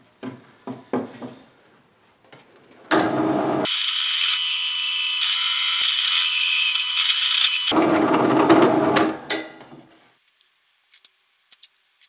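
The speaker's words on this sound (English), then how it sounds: "just drill out most of the waste" A power drill boring out waste wood for a guitar body cutout whirs steadily for about five seconds, loud and close, framed by short bursts of grinding and scattered knocks and clatter before and after.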